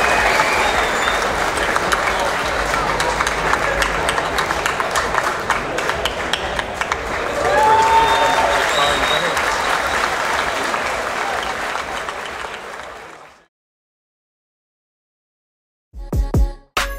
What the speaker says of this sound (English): Give him a big cheer and a big round of applause.